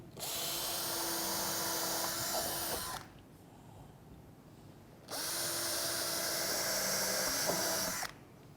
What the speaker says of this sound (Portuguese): Já vou furar aqui do lado. Que é onde vai entrar a fixação da lateral.